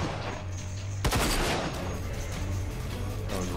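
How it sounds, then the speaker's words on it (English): Gunfire in the shooter game RAGE on Xbox One X: a sharp report followed by a rapid burst of shots, with steady game ambience beneath throughout. "Who else is shooting?"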